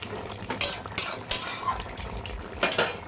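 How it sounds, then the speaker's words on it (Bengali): Fried bottle gourd leaf fritters go into a pan of mixed vegetables, making several close clinks and scrapes of a utensil against the pan with faint sizzling underneath. "আর এখন আমি ওটা বড়াগুলো দিয়ে দেবো"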